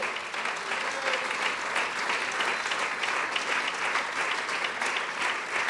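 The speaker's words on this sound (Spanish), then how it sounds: "Denle un aplauso" Steady, dense applause from a crowd, sustained at an even level throughout without pause.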